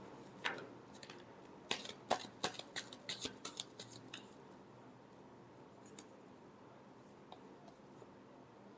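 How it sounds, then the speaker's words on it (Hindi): Tarot cards are shuffled in a short, quiet run of crisp flicking clicks that fades out, followed by near silence. "last shuffle,"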